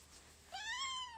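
A house cat lets out a single close, clear meow that rises then falls, standing alone over quiet room tone.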